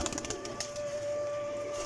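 Sialkoti pigeons, prized females with pearl markings, coo softly in a loft in Jhelum, low throaty pulses under a faint steady tone and light background rustle, with no talk.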